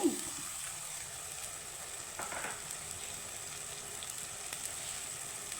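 Tomato and chilli paste fries in a pan with a faint, steady sizzle, a brief crackle at the start and quiet stirring scrapes.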